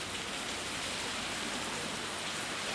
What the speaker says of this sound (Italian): La pioggia ha battuto forte a partire dalle 10 circa ed ha letteralmente annegato i passanti delle vie